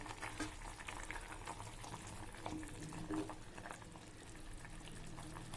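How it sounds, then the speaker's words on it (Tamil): Okra tamarind curry (vendaikai puli kulambu) boils in a covered pot with a soft, steady bubbling and occasional small pops, heard faintly and close up without any talking. "பாருங்கள் எப்படி நல்லா தகான்னு கொதிக்குதுன்னு"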